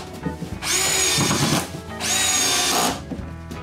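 A power drill drives screws into a wooden TV wall support at a cottage, whining loudly in two bursts of about a second each with a short pause between.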